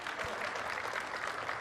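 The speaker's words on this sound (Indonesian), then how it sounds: "tepuk tangan buat bintang tamu kita malam hari ini" An audience applauds a guest star at an evening comedy talk show, a steady wash of clapping throughout with no pauses.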